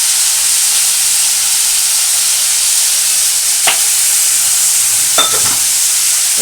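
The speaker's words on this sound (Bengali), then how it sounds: "বন্ধুরা দেখো, পেঁয়াজটা কিন্তু আমি ভালো করে ভাজছি।" Onions fry loudly in a pan with a pinch of sugar and salt, a dense and constant close-up sizzle. A couple of sharp clinks from the stirring spoon stand out partway through.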